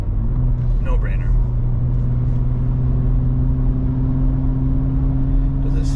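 A 2023 Ford Raptor's twin-turbo V6 runs with a steady low idle hum and rumble while people talk over it.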